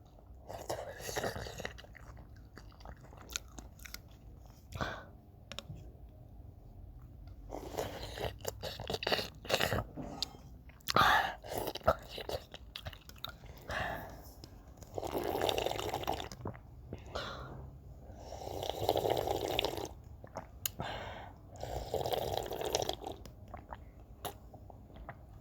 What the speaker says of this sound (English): today we're gonna do ASMR with noodle soup